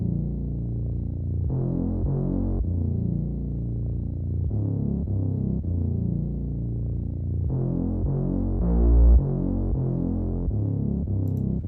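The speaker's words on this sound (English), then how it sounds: "this is what that Reese bass sounds like" A Reese bass synth in an aggressive FL Studio trap beat, a deep throbbing, detuned low drone that shifts pitch with each new note, heavy and sustained with a rhythmic pulse, playing alone.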